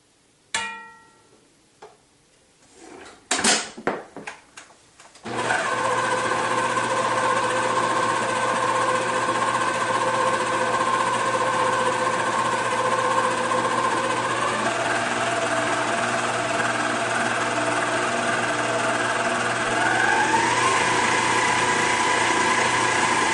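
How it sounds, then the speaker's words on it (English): An electric mixer beats cheesecake brownie batter, a steady continuous motor whine that starts after a few seconds of clatter and soft knocks, then holds loud and even, the pitch shifting slightly partway through; no one speaks. "Again, mixing until just combined."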